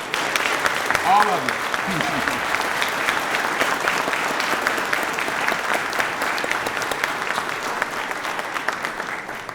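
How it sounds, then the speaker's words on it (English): A crowd at the Hearts & Heroes event gives hospital staff a long, loud round of applause that fades slightly toward the end, with a voice briefly speaking over the clapping. "One more round of applause for everybody from the hospital."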